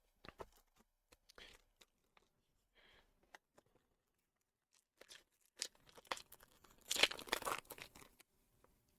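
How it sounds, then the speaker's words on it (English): A MetaZoo trading card booster pack being torn open, with faint, scattered crinkles and rips of the foil wrapper building to a louder burst of crumpling near the end, close up and with no talk. "my mic is like really picking up the pack opening sounds"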